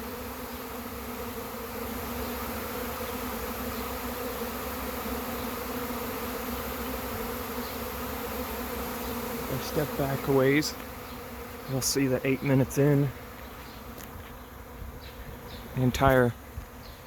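A honeybee swarm drones steadily as it settles into a trap and clusters on a tree, a dense continuous buzz filling the air while someone talks intermittently over it.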